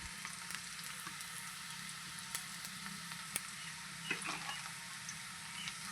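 Onions frying in a pan with turmeric added sizzle steadily while a spoon stirs them, with occasional scraping clicks and small bursts of spatter over the continuous crackle.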